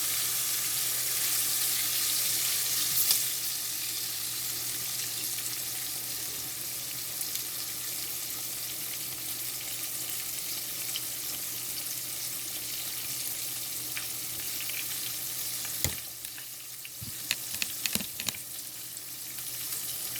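Pork chops fry in a pan, giving off a steady broadband sizzle that lasts throughout, with a few clanks and scrapes of flipping near the end and no one talking.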